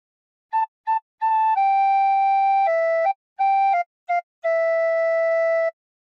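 A tin whistle plays a phrase of the hymn How Great Thou Art: two short notes, then a string of held and clipped notes ending on a long sustained tone, clean and solo.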